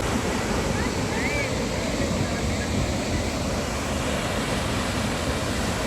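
Kyuite Falls, a large waterfall, roars as a constant dense rush of water, loud and unbroken throughout.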